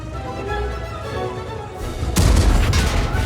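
Heavy tank cannon shots from the Vipera in World of Tanks, a low booming blast that jumps in loudness partway through, over a continuous rumble of battle noise.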